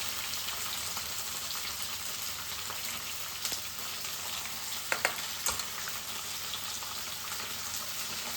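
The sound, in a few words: tomato and onion frying in a pan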